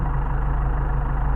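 A Mercedes 190SL fitted with Solex carburetors idles steadily, a close, even low rumble with a smooth, continuous pulse and no other sounds over it.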